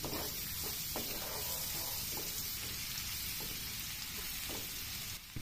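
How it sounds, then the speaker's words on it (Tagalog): Garlic and onion sautéing in butter in a pan, a constant faint hiss of frying with soft periodic stirring scrapes, no voices. "Magisa rin ng sibuyas"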